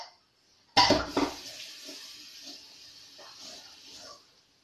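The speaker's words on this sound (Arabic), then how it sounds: "غادي نغسل يديا" A kitchen tap gushes on abruptly and hands are rinsed under the running water, a close splashy rush that gradually softens and then stops.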